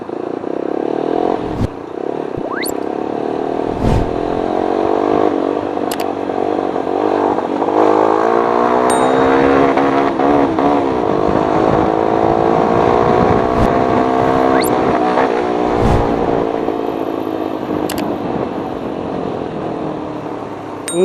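Motorcycle engine fitted with an Akrapovic muffler and a freshly adjusted carburetor, revved loud and close, rising and falling through sustained throttle sweeps with a few sharp clicks between pulls.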